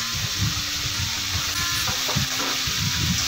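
Chopped tomatoes, chillies and vegetable stems frying in a pan for a moong dal dish with pumpkin greens, a steady hissing sizzle with low bubbling and occasional stirring, close and continuous.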